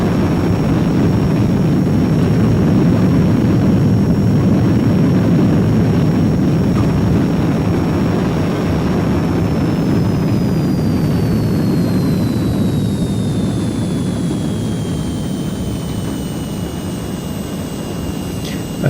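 Heinkel He 162 jet in a flight game on landing approach with wheels and flaps down: a loud, continuous engine roar and airflow rumble. A thin whine slides lower in pitch partway through as power is pulled back.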